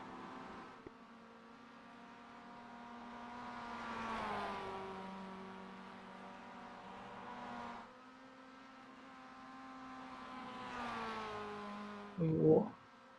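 A second-hand Mazda MX-5 on a club-day mountain hill climb revs up and down through gears, sounding fairly distant and faint, with a brief louder knock near the end.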